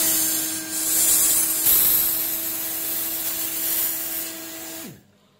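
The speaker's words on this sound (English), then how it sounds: "we will apply heat by hot air gun" A hot air gun blows heat onto a smartphone's charging port during a USB connector replacement, giving a steady, close hiss and whoosh that holds level for about five seconds, then cuts off abruptly as the tool is switched off.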